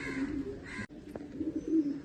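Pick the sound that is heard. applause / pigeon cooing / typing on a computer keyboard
pigeon cooing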